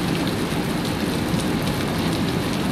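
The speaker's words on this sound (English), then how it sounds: "listen to that rain" Heavy rain pours steadily during a severe thunderstorm, a dense, continuous roar of drops hitting surfaces close by, with no voices over it.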